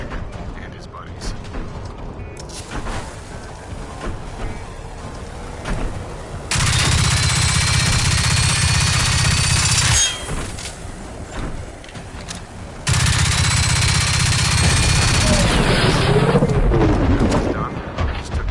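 Rifle fire and heavy bursts in the shooter game Generation Zero, loud blocks of continuous shooting and mechanical noise, with a speaking voice between the bursts.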